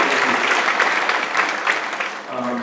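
Audience applause at a scholarship recipient reception, a short burst of steady clapping from a room of listeners that tapers off as a speaker's voice returns near the end.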